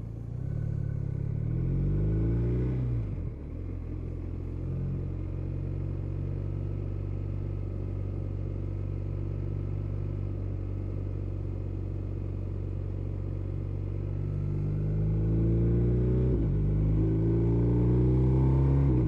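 A BMW R1250RT boxer twin pulling steadily at low revs while being ridden: a deep, throbbing engine drone with wind rumble, rising in pitch as it accelerates at the start and again near the end, with a dip between.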